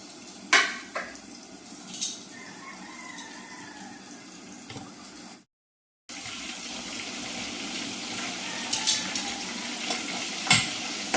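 Food sizzles steadily in a pan, with occasional clinks and scrapes of stirring and a brief cut in the middle.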